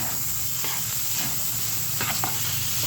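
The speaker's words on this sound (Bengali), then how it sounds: "মশলাটা দিয়ে দেবো লুডুসগুলো মিশিয়ে নেব।" Noodles being stirred with spices and coriander leaves in a frying pan, making a soft continuous sizzle with a few faint scrapes of the utensil, close and quiet, with no voice.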